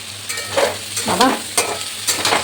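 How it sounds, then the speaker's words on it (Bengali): Elephant foot yam frying and being stirred in a pan for a home-style yam and chickpea dish, with a steady sizzle and a few scraping stirs, fairly close. "দেখো তোমাদের সামনেই এ দেখো ভাজলাম"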